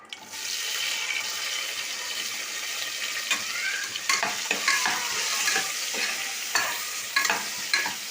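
Chopped onions hiss and crackle as they hit hot oil already holding fennel seeds, mustard seeds and a bay leaf, a loud steady sizzle with occasional scrapes and stirring knocks.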